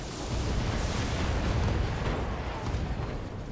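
A battle mech in BattleTech blows apart under concentrated weapons fire, a sustained, loud roaring blast with dense rumbling debris that swells and holds for a few seconds before easing off, with no voices over it.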